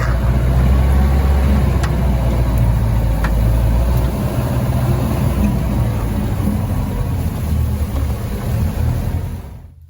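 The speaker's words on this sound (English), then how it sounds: "you're looking at the new last minute rock crawler, and this is actually a Mahindra Roxor" A Mahindra Roxor set up as a rock crawler drives along off-road trails, its engine rumbling loud and close over bumps with a steady low roar that fades out at the end.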